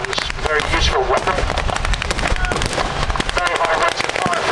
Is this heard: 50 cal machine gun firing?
yes